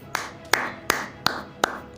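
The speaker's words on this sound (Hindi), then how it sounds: "ताली" Five sharp, single hand claps land roughly evenly spaced, about one every third of a second, each crisp and close with a short fade, alone without talk.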